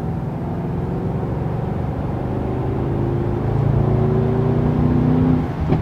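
From inside a 2019 Mercedes-Benz S 560 Coupe, the engine and exhaust drone steadily, then rise in pitch and grow louder as the car accelerates, with no voices over it.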